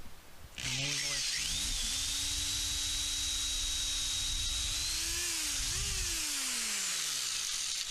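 An electric drill starts up and whines steadily at high speed, its pitch dipping as it bites into wood while installing a screen door, then winding down at the end.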